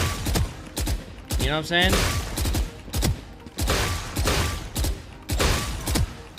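Gunfire in the shooter game Valorant: repeated loud bursts of shots in quick clusters separated by short pauses, with someone talking over part of it.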